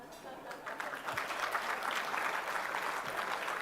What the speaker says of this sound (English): You can applaud me right now.